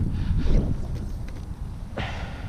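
Gusty wind roars and buffets the microphone in a steady low rumble while someone fly fishes for spring striped bass from a boat on open water, with no clear voices.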